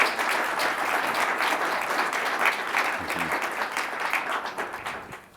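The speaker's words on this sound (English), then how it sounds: "let's give these two guys a round of applause" An audience at an economics talk gives a steady round of applause for two speakers, dense clapping that holds evenly and then tapers off, with a brief voice murmuring underneath.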